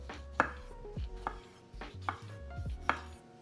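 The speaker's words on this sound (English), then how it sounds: "Got some vine ripe tomatoes. We're just gonna slice them up." A knife slices thick rounds of vine-ripe tomatoes on a board, four distinct chopping knocks spaced roughly evenly, close and fairly quiet.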